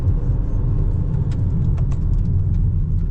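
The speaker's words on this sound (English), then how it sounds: "that's just changing down gears" A 2025 Kia K4 GT-Line changes down through its gears on the road, with a steady close engine rumble and road drone, faint brief clicks above it and no speech.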